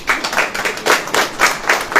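Audience at a church preaching event clapping, loud rhythmic claps in short bursts that pulse steadily, close and dense.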